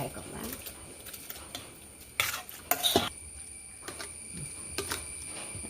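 Metal utensil scrapes and clanks against a pot in a few sharp bursts while mixed vegetable jalfrezi curry is transferred into another pot, with quieter scraping between them.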